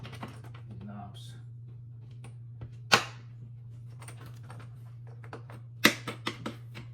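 Knobs on a Sony FX6 camera rig are tightened by hand, producing small scattered clicks and ticks with two sharper snaps, close and quiet over a steady low hum.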